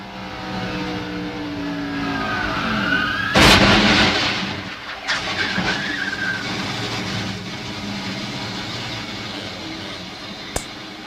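Race cars of the 1999 NASCAR Winston Cup Series roar past at speed in a continuous engine drone, with a sharp impact burst partway through as a car hits the fence and a brief crack near the end.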